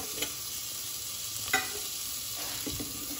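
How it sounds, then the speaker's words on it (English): Pumpkin and carrot cooking in a pot make a low sizzle, broken by a few scraping stirs and soft knocks. "Now I am going to add pumpkin and carrot."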